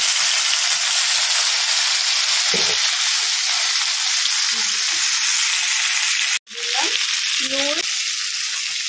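Crabs fry in mustard oil in a wok with a loud, continuous sizzling hiss close by that briefly drops out and surges back, while a voice speaks briefly over it.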